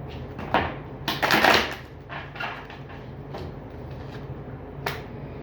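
A few quick papery riffles and snaps of playing cards being shuffled, with a brief burst in the middle and scattered light clicks after.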